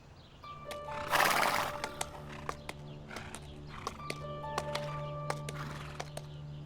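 A horse neighs loudly near the start, followed by scattered hoof clip-clops and a few clatters over a steady low hum, with faint birdsong in the background.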